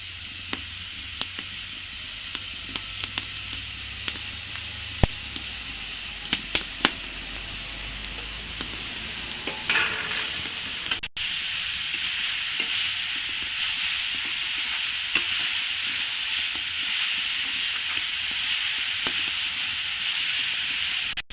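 A papaya laddu mixture is stirred in a kadai, giving a steady scraping and rubbing against the pan with a soft hiss, close and continuous and without talk.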